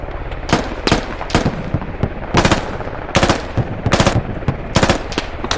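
Machine gun fire in the tactical shooter game Squad comes as repeated loud, close bursts of rapid shots, about eight short volleys with brief gaps between them.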